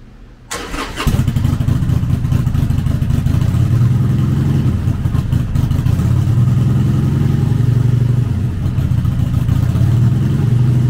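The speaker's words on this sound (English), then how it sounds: "Powered by a 1200cc V-twin motor, the Sportster puts 79 foot-pounds of low-end torque through a 5-speed transmission." A 2012 Harley-Davidson Sportster 1200 Custom with a 1200cc V-twin starts up after a brief click, then settles into a loud, steady, lumpy rumble with slight swells of revving, close by and with no talk.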